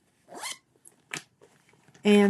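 A handmade zipper bag being handled, with a few short scratchy zipping and rustling bursts and a louder final burst, close and fairly quiet, with a voice in the background.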